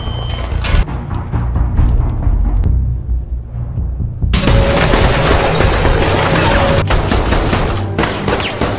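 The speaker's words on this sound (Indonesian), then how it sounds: "terjadilah baku tembak di antara kedua kubu, antara pihak Mr. Jiang dan pihak kepolisian dari Perancis" Loud gunfire from a shootout between Mr. Jiang's gang and French police in the film Lucy, with dense bursts and heavy booms filling the whole stretch and a sharper, brighter volley after a brief lull.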